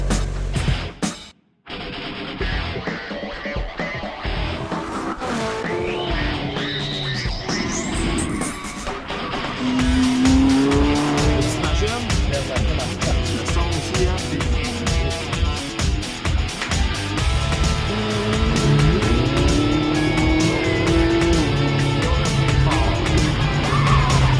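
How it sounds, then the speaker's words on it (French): An exotic sports car driven hard on a racetrack at speeds nearing 200 km/h: a loud engine climbing through repeated revving gear pulls with tire squeal, briefly muffled at the start, then roaring steadily close by. "On leur permet de rouler des voitures à des vitesses qui atteignent quasiment les 200 km/h."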